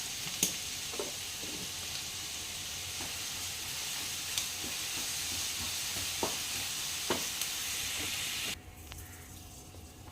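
Ginger sautéed with salt in a pan for an Onam special puli inji, a soft continuous sizzle with scattered light stirring clicks, quiet and close, ending in a sudden drop.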